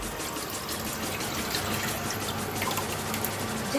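Dhokli batter mixture poured into a nonstick kadai, a steady close liquid pouring and splashing wash that runs continuously throughout without any talking.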